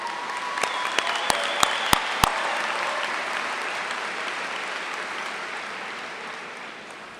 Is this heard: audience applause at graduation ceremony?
yes